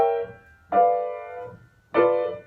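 Jazz piano chords voiced from a sixth diminished scale and set under the melody of We Three Kings, three sustained harmonized chords struck about a second apart, each ringing and fading, played alone.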